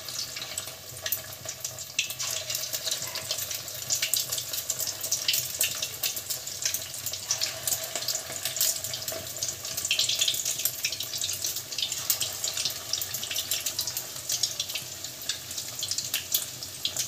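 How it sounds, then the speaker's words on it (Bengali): Egg and bread pakoras fry in hot oil in a kadai, giving a steady, hissing sizzle with crackly bursts that continues unbroken throughout, moderately loud and with no talking. "তেল গরম হয়ে গেছে, পকোড়াগুলো দিয়ে দেবো।"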